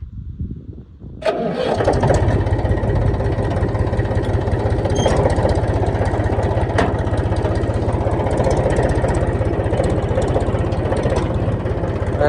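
A tractor engine cranks and catches after a moment of quiet, then settles into a loud, steady chugging idle close by.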